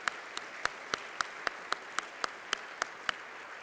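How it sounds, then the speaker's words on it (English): Sparse, evenly spaced single claps ring out at a charity luncheon, about a dozen sharp hand strikes in a slow steady rhythm, faint and distant against a quiet room. "Let's give them a big round of applause."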